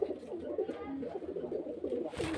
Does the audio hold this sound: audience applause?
no